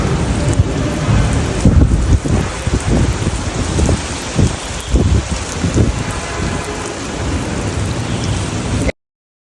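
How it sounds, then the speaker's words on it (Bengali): Heavy downpour pours steadily and loudly, a dense continuous hiss of rain drumming on surfaces close by, with occasional low rumbling swells and no voices. "কারণ হচ্ছে এই যে ঝুম বৃষ্টি"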